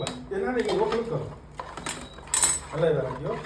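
A metal ladle clinks and scrapes against a cooking pot of moong dal in a few quick bursts, with voices talking over it.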